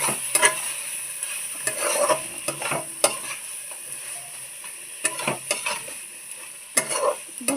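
Spiced prawn malai curry masala is stirred in a frying pan, with a soft sizzle under irregular scrapes and taps of a spoon against the pan, close and clear.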